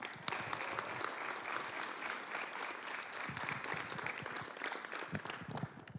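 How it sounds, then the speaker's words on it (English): A crowd at a college signing ceremony for a tennis player gives sustained applause, a thick, steady roar of many hands lasting about six seconds, heard at moderate distance with no talk over it. "So a round of applause for Jasmin"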